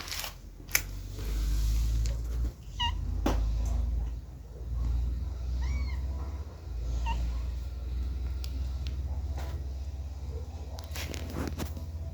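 A cat meows a few times, short and fairly faint, over a steady low rumble and some rustling handling noises.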